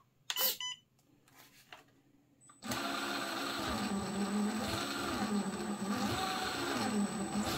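An FMS FCX10 RC crawler's drivetrain spins with the rear diffs locked, a steady high motor whine and gear hum starting after a few soft clicks and handling noises, close up and without speech.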